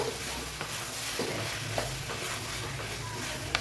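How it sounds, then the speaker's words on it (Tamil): Drumsticks and brinjal sautéing in a pan, a soft continuous sizzle with a few faint scraping stirs, close and quiet throughout. "நல்லா வதக்கலாம்."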